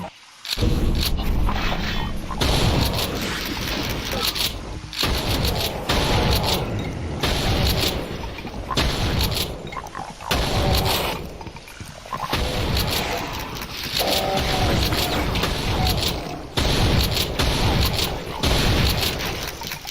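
Grenade explosions and bursts of gunfire in a retro first-person shooter played in VR, loud repeated booms and rattling blasts filling the whole stretch with hardly a pause.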